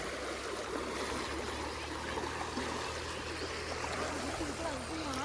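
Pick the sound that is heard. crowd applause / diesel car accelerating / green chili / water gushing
water gushing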